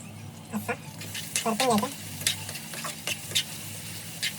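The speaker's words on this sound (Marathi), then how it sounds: "तर मित्रांनो असं टॉमॅटो आता आपण ढवलून घ्यायचा आहे" Tomatoes being stirred in a frying pan for a dry prawn curry, with soft scraping and patchy sizzle under someone speaking.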